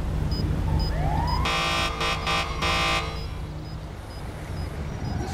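Ambulance siren in the video game GTA V, a loud, close electronic wail with rising sweeps that switches to a rapid pulsing yelp, then fades back to a steadier tone over background traffic noise.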